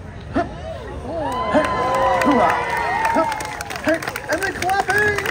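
A street performers' festival crowd watching a circus firemen act claps and cheers, a dense, lively mix of applause, whoops and excited voices filling the whole stretch at close range.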